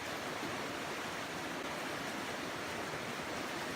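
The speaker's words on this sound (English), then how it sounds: "It's a beautiful waterfall I'm crossing" A waterfall on the Appalachian Trail near Springer, heard from a bridge crossing it, roars as a steady, dense, even rush of falling water close by with no other sounds.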